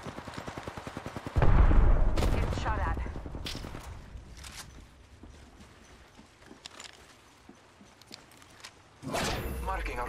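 Bursts of rapid gunfire in the Apex Legends video game: a quick rattling volley at the start, a heavy blast, then scattered shots and clatter fading down before another loud burst near the end.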